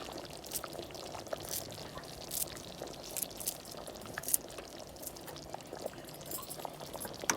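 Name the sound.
curry boiling in a pot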